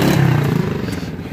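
A motorbike pulls away nearby, its engine rumbling loudly with a rhythmic throb and some rattling as it rides off.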